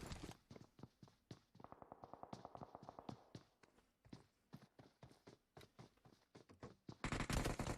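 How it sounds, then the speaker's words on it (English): An M16 rifle fires in PUBG Mobile as a rapid series of crisp single shots and short bursts with an even, tapping rhythm, then a louder, denser burst at the end. "Rattling out that M16."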